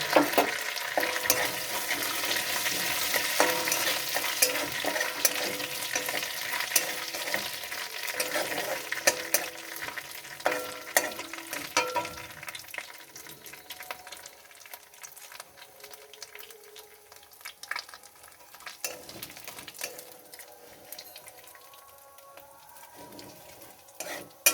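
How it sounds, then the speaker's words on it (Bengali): Cumin seeds, dried red chillies and bay leaves crackle in hot oil, a busy, spitting sizzle with scattered pops and spoon taps that is loud at first and gradually settles into a softer, thinner fry. "এবার আমি তেলটা গরম হলে জিরা, শুকনো লঙ্কা আর তেজপাতা দিয়ে দেব।"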